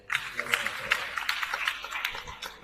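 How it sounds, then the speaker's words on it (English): An audience at an annual registry lecture gives a round of applause, dense clapping rising and falling steadily for a few seconds at moderate loudness. "Distinguished ladies and gentlemen, shall we give a round of applause for the"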